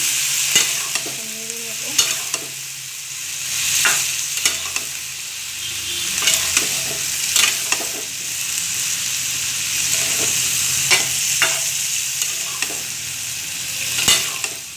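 Bottle gourd pieces fry in a pan, giving a steady loud sizzle broken by regular sharp clinks and scrapes as a spatula stirs them.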